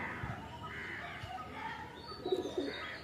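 Soft cooing from a breeding pair of pigeons with clipped wings, faint low coos and a few brief chirps against quiet background noise.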